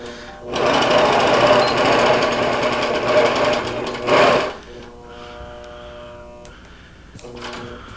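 A sewing machine stitches a quilt with a quilting frame, running in a loud, fast, steady mechanical whir for several seconds with a brief back tack. It then stops, leaving a quieter hum and light clicks as someone talks.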